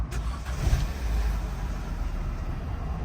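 A car engine starting up at a vehicle repair shop, a brief cranking burst settling into a steady low idle hum close by, with no talk over it.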